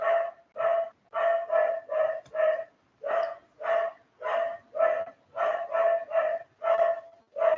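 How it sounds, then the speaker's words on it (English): A neighbor's dog barks repeatedly and loudly, a steady run of about fifteen sharp, evenly spaced barks close by with no talk over them. "My neighbor's dog."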